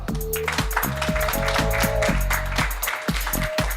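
A studio audience at a French live show claps for a presenter, the applause running under loud stage music with sustained tones and sharp rhythmic hits.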